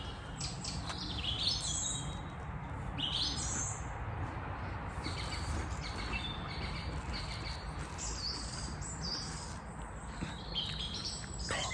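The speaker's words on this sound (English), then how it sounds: "Got a lot of activity from the birds up here." Birds chirp and call repeatedly in short bursts over a constant hum of insects, creating a busy woodland chorus with no talking.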